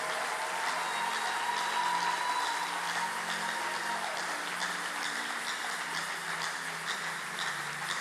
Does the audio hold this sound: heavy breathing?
no